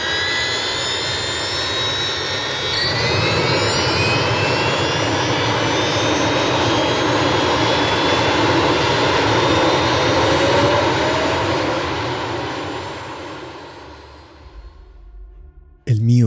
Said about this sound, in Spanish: Linkes Triebwerk anlassen.